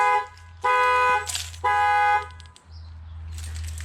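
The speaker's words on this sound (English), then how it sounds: "Stupid car alarm." A car alarm goes off nearby, loud and alone, blaring in repeated bursts with short gaps between them over a low steady rumble.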